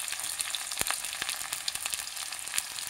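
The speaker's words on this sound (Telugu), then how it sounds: "కాస్త పచ్చివాసన పోయే వరకు వేయించుకుంటే చాలండి" Chopped onion fries in a pan for mutton keema with a constant close sizzle, broken by sharp crackles and pops as the pieces are turned.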